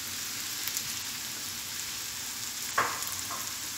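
Half a kilo of okra sautés lightly in a pan with a steady, gentle sizzle, broken by a single brief clink near the end; no talk.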